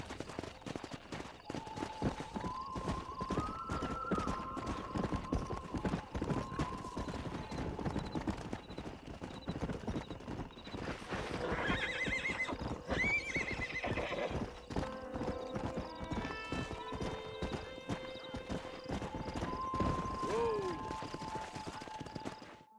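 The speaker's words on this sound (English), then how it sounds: "We got some fine horses." Horses in the Red Dead Redemption video game clip-clop steadily throughout, with repeated whinnies and neighs over game music; a voice talks briefly partway through.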